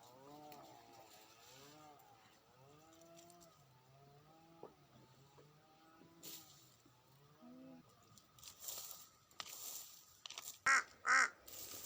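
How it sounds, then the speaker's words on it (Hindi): Crows caw repeatedly outdoors on a cold, windy day outside a dispensary, with harsh calls scattered through rushing wind and a couple of loud, close cries near the end. "एक यहाँ के कौवे बहुत चिल्लाते हैं।"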